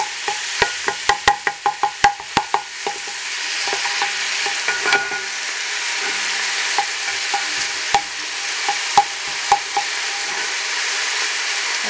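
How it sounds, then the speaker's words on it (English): Onions frying in vegetable oil in a pan for hamburger soup: a loud, steady sizzle up close, broken by a quick run of sharp spoon taps and scrapes early on and scattered stirring knocks later. "I'm going to add my onions. Okay, and let's fry them for a little moment"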